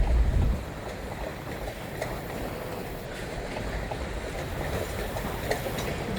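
Freight train cars rolling past on rails, a continuous rumbling clatter of wheels over track, steady and fairly close after a brief louder start, with no voices.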